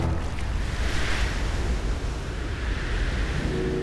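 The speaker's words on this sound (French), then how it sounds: "Les vagues sont beaucoup trop fortes." Strong ocean waves in an animated children's cartoon roar continuously as a loud, dense wash of surf, with no voices.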